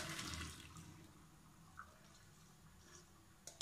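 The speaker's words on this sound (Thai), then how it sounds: "ราจะเทน้ำทิ้งนะคะ" Water from a pot of boiled chicken pours out into a sink, a steady splashing gush that fades to trickles and drips, with a few clinks near the end.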